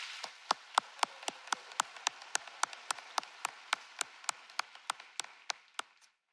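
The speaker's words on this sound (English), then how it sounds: "Give them a huge round of applause" A lone pair of hands claps slowly and evenly, about three claps a second, with sharp, distinct strikes over a quiet background. The clapping thins out and stops near the end at a middle school graduation ceremony.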